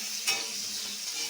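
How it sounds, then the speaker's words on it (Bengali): Rohu fish pieces fry in oil in a pan with a steady, close hiss of sizzling and a brief stirring scrape near the start, with no voices. "ভালো করে ভেজে নিতে হবে, যাতে সেদ্ধটা প্রায় হয়েই যায়"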